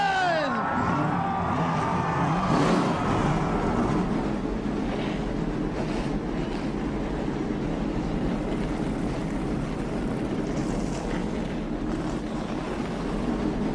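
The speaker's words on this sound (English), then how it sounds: "Gentlemen, start your engine!" Stock car field at Gateway firing up for a Goodyear Cup Series race, many engines roaring together, with rising revs in the first few seconds settling into a loud, steady drone.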